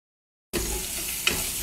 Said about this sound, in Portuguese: Aí fritando um bacon